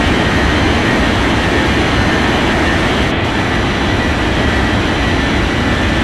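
Jet airliner taking off in an air traffic control game, a loud, steady broadband engine roar that holds unbroken for about six seconds, with no voices over it.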